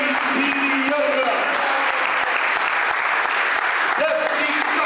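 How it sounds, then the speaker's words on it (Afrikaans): A church congregation at a Good Friday service claps hands steadily and loudly, a dense continuous wash of applause with voices calling out underneath. "Kan ons die Here hande klap of vergee vir hierdie wonderlike boere."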